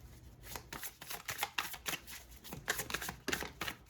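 Tarot cards being shuffled by hand, a rapid series of close, crisp riffling bursts in an irregular rhythm, with no talking.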